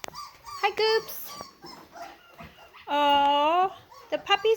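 Young puppies whimper and whine in high, wavering cries, including one long drawn-out whine in the middle, close and fairly loud, with a person speaking softly in between.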